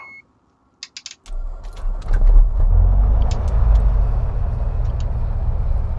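In a flight simulator game, a Beechcraft Bonanza's piston engine cranks after a few switch clicks, then fires up into a loud, steady rumbling idle that carries on close by without speech.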